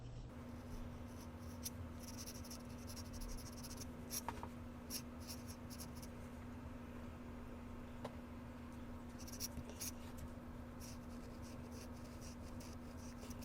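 A fountain pen with Serenity Blue ink writes on Tesco paper, soft scratchy strokes and small taps continuing steadily and quietly at close range over a low constant hum, with no talking.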